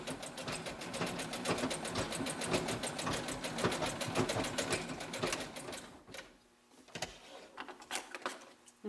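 A sewing machine stitching leggings runs in rapid, even bursts of close mechanical clatter for about six seconds, pauses, then resumes with a few shorter stitching runs.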